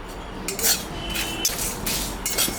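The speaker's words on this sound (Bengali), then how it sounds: "লাউটা আমি ভাজা মশলা দিয়ে করব, তাই আমি মশলাটা ভাজে নিচ্ছি।" Whole spices (cumin, radhuni, coriander seed, dried red chilli and fennel) are dry-roasted in a pan, with a metal spatula clinking and scraping against the pan in several quick, close strokes and no talking.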